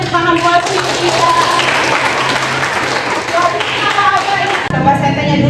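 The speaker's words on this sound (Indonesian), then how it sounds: "tepuk tangan buat kita" Classroom clapping from students in a university lecture, a brisk burst of hands with tonal voices and talk mixed throughout, ending abruptly before a speaker resumes.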